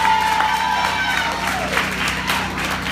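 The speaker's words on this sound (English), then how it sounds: "Let's give them a round of applause as well." A crowd at a housing authority community event claps for the vendors, loud continuous applause with some cheering, and a brief tone at the start.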